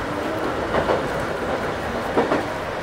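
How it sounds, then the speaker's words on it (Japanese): A Nankai 2200 series two-car train accelerates strongly along the flat Shiomibashi Line, its steady interior rumble punctuated by two soft clickety-clack bursts of wheels over rail joints. "この電車2200系、大した勾配のない平坦なこの路線を走るにはもったいないぐらいの力強い加速です"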